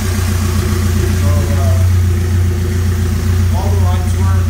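A car engine idles just after a cold start, giving a steady, loud low rumble that runs unbroken throughout while a person talks over it.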